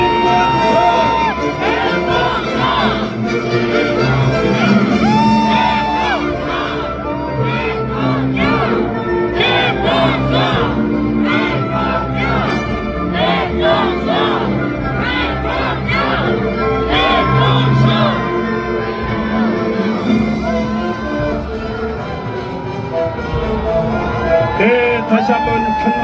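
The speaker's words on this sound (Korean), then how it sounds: "김문수를 외쳐주십시오" A large outdoor crowd at a presidential election rally in Seoul Plaza for candidate Kim Moon-soo chants and cheers loudly and continuously, with rhythmic shouting, whoops and a loud amplified voice mixed throughout.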